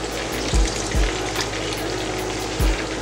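Thai-style sauce for whole red snapper simmering in a pan, a soft continuous bubbling hiss close by, broken by a few dull low thumps.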